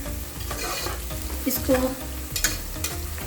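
Garlic sizzles steadily in a hot pan while a utensil scrapes and stirs, with knocks against the pan.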